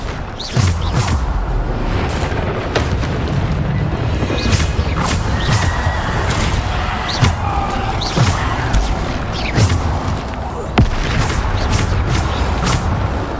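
Bombarda spell explosions in the Hogwarts Legacy video game: repeated booming blasts, crashes and whooshes of magical combat, loud and dense, with sharp impacts landing every second or so over a constant rumbling bed.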